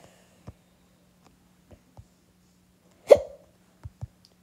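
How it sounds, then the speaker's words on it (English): A person hiccups several times, short soft gulping catches spaced irregularly over a few seconds, with one louder, sharper hiccup in the middle, heard close in an otherwise quiet room. "I hate hiccups."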